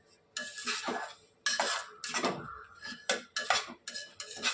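Semolina and dry fruits roasting in a pan for a sweet jaggery sheera, heard as repeated scraping and clanking strokes of a metal spoon against the pan, close and loud, alone without talk.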